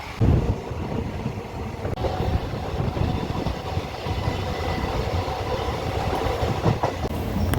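Rajya Rani Express train running non-stop past Mysore toward Mandya, a steady rumbling rattle of wheels on rails with faint clickety-clack, heard from aboard the carriage, continuous and moderately loud with no talk.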